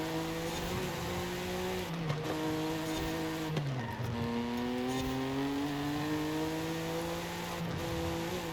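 A car in the racing game Forza Horizon 5 runs continuously around a track with a steady engine drone whose pitch rises and dips through gear changes and corners, accompanied by faint tire noise, loud and unbroken throughout.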